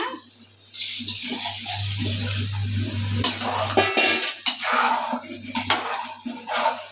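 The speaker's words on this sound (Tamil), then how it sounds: "இப்போ நம்ம தண்ணி சேர்த்துக்கலாம்" Water pours steadily into a metal cooking pot while making mushroom biryani, a splashing gush with clinks of cookware, then stops; a low hum runs underneath.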